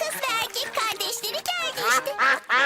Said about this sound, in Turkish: Başka ördekler de geliyor.